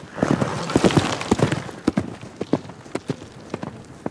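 Hooves of a horse being ridden and broken, clip-clopping in an uneven series of sharp thuds, close and fairly loud, with a brief whinny-like noise early on.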